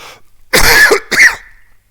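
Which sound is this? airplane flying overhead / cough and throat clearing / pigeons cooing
cough and throat clearing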